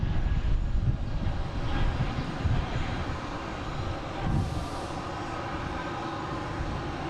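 JetBlue Airbus A220 jet at Boston Logan airport, a steady broadband engine roar with low rumble, fairly close and moderately loud, swelling slightly around the middle before holding even, with no talk.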